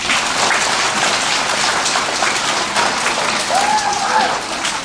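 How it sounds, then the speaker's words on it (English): An elementary school audience in Brighton, Michigan applauds at an assembly, a loud dense wash of clapping from many children that carries on throughout, with a brief whistle-like tone near the end. "Can we give him a nice round of applause?"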